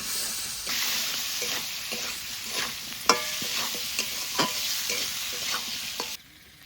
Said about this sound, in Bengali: এবার আলু ভালো করে ভেজে নেব।